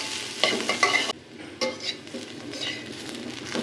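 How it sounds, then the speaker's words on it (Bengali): Boiled small red potatoes are stirred in frying oil: a utensil scrapes and knocks against the pan in short bursts over a continuous soft sizzle, close and without talk. "ভালো করে আলুটা ভেজে নিব।"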